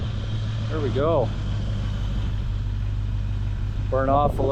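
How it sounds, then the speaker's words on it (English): A Ford Foxbody 5.0 302 V8 engine with heavy sludge idles steadily with a deep low rumble, while someone talks briefly over it near the start and again near the end. "Idling a million times better now."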